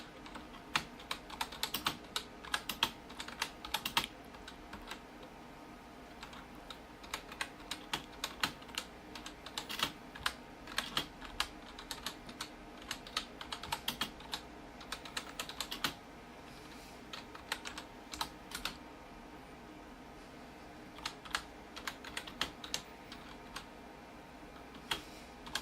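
Fairly quiet, close keyboard typing as a link is entered on a computer, with sharp clicks in irregular clusters over about twenty-five seconds and a steady low hum beneath.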